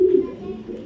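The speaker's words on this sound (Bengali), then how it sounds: "টপ কোয়ালিটির সুপার মিলি নর কবুতর" A male racing pigeon of a long-distance breed coos in a low, throaty burble, close and steady for under a second with no talk over it.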